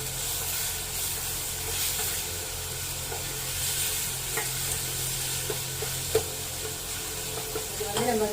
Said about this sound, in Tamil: தக்காளி பாருங்க கொஞ்சம் நல்லா வதங்கிடும்